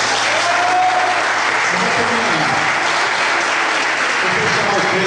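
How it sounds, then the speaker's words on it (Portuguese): Sustained, dense applause from a church congregation fills the space evenly, loud and close, with scattered voices and cheers mixed into the clapping throughout. "eu gostaria que os irmãos dessem uma salva de palmas em nome de Jesus"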